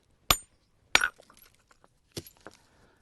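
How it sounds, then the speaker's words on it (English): Sharp stone-on-stone strikes of a hammer knapping flint and knocking flakes off the edges: three distinct cracking knocks spaced apart, each followed by faint skittering clicks of falling chips, fairly close and otherwise quiet. "using a hammer, slowly but surely marching around the edges"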